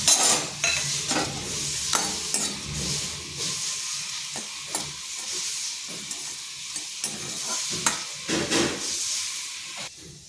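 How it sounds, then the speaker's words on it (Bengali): A handful of nuts sizzles in a hot wok, a constant hissing fry broken by brisk spatula scrapes and knocks that come close together, up close and moderately loud. "আর ওই কড়াইতে কয়েকটা বাদাম ভেজে নিচ্ছি"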